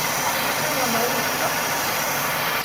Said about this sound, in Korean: 가스 새는 소리가 나